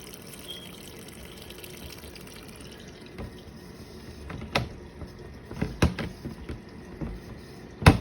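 A SAFEPLUS portable clothes washing machine rinsing, with a steady low watery churn and trickle building into sharper splashes and knocks toward the end, close and without talk.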